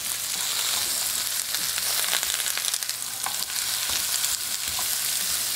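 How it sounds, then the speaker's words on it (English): Sliced zucchini and small yellow squash, the zucchini peeled, sauté in a pan with a steady close sizzle and scattered scraping stirs and ticks throughout, no voices. "And we're going to saute that for about 3 minutes."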